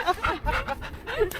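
Dogs pant and make small noises close by in a park, with breathy rhythmic sounds over a short stretch.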